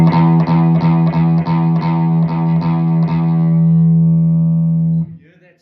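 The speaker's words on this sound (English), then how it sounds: "I'm going to bring up the preamp now, where you'll get more gain, distortion sort of sound" A distorted electric guitar through an amplifier with the preamp gain raised buzzes loudly, pulsing rhythmically in repeated strums, then sustains before cutting off into quiet.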